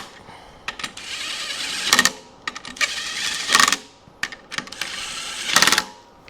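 Ratchet wrench tightening bolts on a DT-466E diesel engine during a rebuild: short bursts of fast clicking ratchet strokes, close by, in several separated runs with brief quiet gaps and a few single ticks between them.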